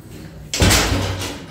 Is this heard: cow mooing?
no